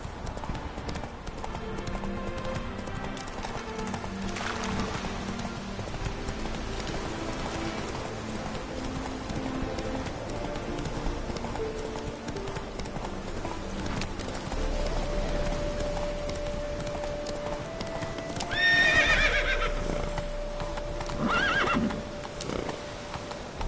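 Horse hooves clip-clopping at a steady gallop in The Witcher 3, with a whinny near the end over a constant bed of game music and ambience.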